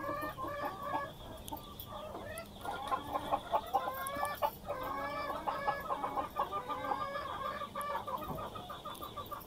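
A desi laying hen clucking close by in repeated throaty bursts that grow more insistent partway through, with faint farmyard background and no talk.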